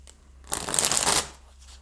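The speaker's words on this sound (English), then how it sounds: "let's just try to give it a quick shuffle" A deck of tarot cards gets one quick riffle shuffle, a close, crisp burst of rapid flapping card edges lasting under a second before settling.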